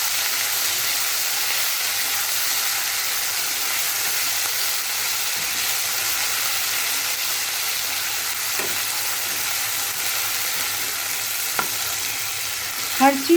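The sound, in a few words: ginger garlic paste frying in a pan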